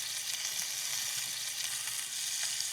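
Shrimp sears in a hot pan for pasta amatriciana, giving a steady, bright sizzle that stays even and close throughout with no voices.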